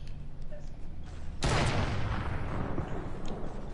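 A sniper rifle shot in a video game cracks loud and close with a sudden burst, then a long noisy rumble trails off over a few seconds above a low game background.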